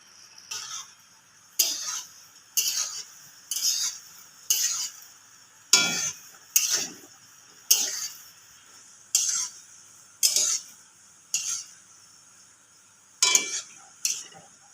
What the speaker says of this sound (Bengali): একইভাবে ভেজে নেবো নেড়ে চেড়ে